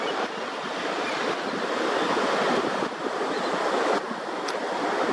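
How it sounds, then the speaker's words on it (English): Ocean waves wash in a continuous, loud broadband roar, with wind noise buffeting the microphone and faint surges rising and falling, no voices present. "There's a timeless beauty with the ocean."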